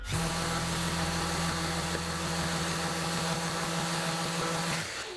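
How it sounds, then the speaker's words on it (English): A power sander hums steadily for about five seconds sanding wooden plugs, starting and stopping cleanly, with a constant motor drone and no talking. "Let's hit them with a little sanding real quick"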